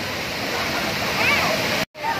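Taytay Falls in Majayjay, Laguna pours as a steady broadband rush of falling water, loud and close. A brief dropout near the end cuts the sound.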